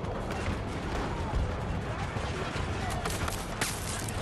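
Turret gunfire in Battlefield 2042, a dense, continuous barrage of loud rapid shots and blasts filling the whole stretch without pause.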